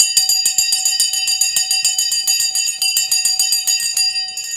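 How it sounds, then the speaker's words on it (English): New York Stock Exchange opening bell at the start of trading: a loud, rapid metallic ringing with fast evenly spaced strikes, continuous for several seconds and stopping abruptly, no talk. "The bell has gone."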